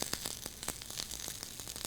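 Corn cobs on a barbecue grill give off a faint, continuous crackling sizzle, dotted with rapid small pops throughout.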